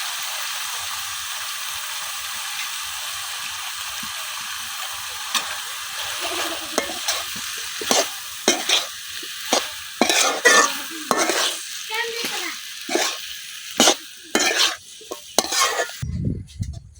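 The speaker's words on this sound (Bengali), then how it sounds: "এখন লতিগুলো কিছুক্ষণ কষায় নেন।" Wild taro stolons (kochur loti) are sautéed in a pan, with a soft steady sizzle that turns into repeated loud scraping and stirring strokes and spatula clatter, close by.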